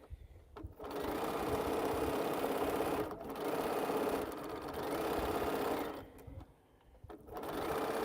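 A sewing machine runs in steady bursts while stitching a small quilt seam, its whirring hum pausing briefly twice before resuming, loud and close with no talk over it.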